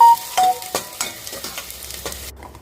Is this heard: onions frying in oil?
yes